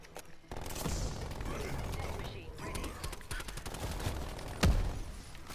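Automatic sentry turrets fire in Call of Duty: Black Ops Cold War Zombies, dense continuous gunfire bursts overlapping other weapon shots, with a sharp loud impact near the end.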